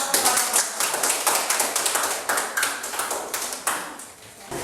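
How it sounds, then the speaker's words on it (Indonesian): Students in a classroom give a group of presenters a round of applause, with uneven, sharp claps from a small group that thin out and fade toward the end. "Tepuk tangan dulu buat"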